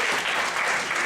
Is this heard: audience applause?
yes